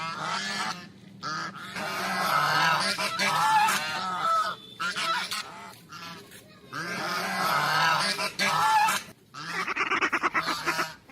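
A flock of farmyard ducks honks and quacks in loud, close bursts, several calls overlapping, separated by brief quiet gaps.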